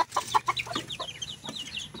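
A chicken in the Philippines clucks in quick, close, choppy bursts, a rapid series of short calls over about two seconds.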